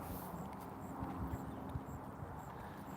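A horse on a horse farm plods along with soft, irregular hoof clops, fairly quiet and close against a low outdoor background hum.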